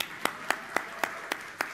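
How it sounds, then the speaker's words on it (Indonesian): A lone preacher in a church service claps his hands six times at an even, steady pace, each clap a sharp, fairly close snap over a quiet hall. "Enggak ada yang tepuk tangan, saya tepuk tangan sendiri."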